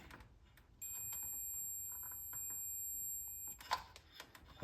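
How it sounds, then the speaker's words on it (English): A steady high electronic beep tone from a Space Encounters arcade game holds for a few seconds over quiet background, then cuts off, followed by a few faint clicks. "So, I don't know why that's beeping."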